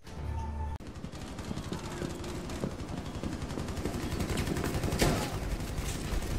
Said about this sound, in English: That was like gunfire.